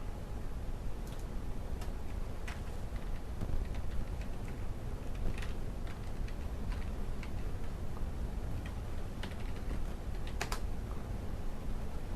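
Someone types on a computer keyboard, a steady run of light, irregular clicks and taps up close with occasional sharper key strikes over a faint constant background hiss, and no talk.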